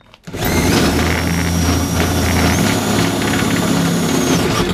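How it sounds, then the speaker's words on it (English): A power drill starts up and runs continuously at a steady, loud whine, drilling through a car floor without pause. "And you just drill it through the floor"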